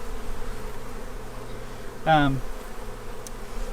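Honeybees at an open beehive during a spring hive inspection, a steady low hum with one brief, louder buzz as a bee passes close by midway.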